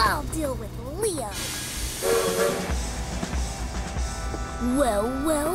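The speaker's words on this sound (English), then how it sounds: "Glim, you go and stop the train." A cartoon steam train hisses steam beneath animated character voices, with rumbling rail noise and a bright whistle-like tone near the end, all fairly close.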